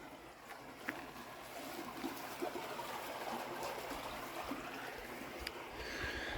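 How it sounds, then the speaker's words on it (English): Rushing water of a stream in rural Wisconsin, a continuous broadband wash with small splashes and gurgles, steady and fairly close, no talk. "How is water rushing so much?"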